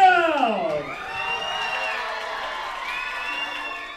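An audience cheering and clapping as a performer is announced at a show, a sustained crowd roar with high whoops, loud and close.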